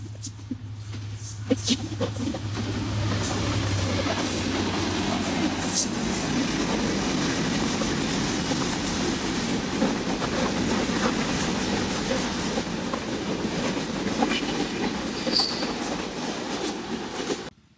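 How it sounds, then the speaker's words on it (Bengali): Train pulling into Mominpur station, a loud continuous rumble of railcars with clickety-clack and occasional wheel squeal, close and steady throughout, with no talk. "আপনার ভিডিও করতে করতে চলে এসছে ট্রেন"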